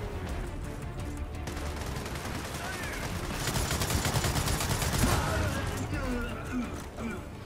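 Sustained spraying of gunfire in Gears of War 4, rapid shots running continuously at moderate level, with a voice talking over the shooting.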